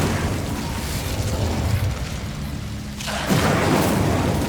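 Bombarda spell explosion in the video game Hogwarts Legacy: a loud, broad blast that swells abruptly partway through over continuous rumbling game ambience, with no talking.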